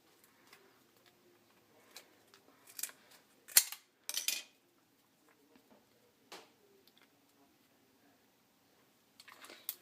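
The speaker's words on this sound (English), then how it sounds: "just go ahead and cut off that end that's overhanging." A popsicle stick's overhanging end being cut off while crafting a mini gun, with a couple of sharp, crisp snips close by in an otherwise quiet room, plus a few faint taps and rustles.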